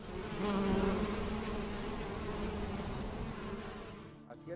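Honey bees buzz densely at an organic honey hive in Huila, a steady close swarm drone that fades away at the end.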